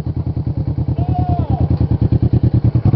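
Motorcycles from a bike club run close by as a steady, rapid train of loud, evenly spaced engine pulses. A brief high whine rises and falls midway.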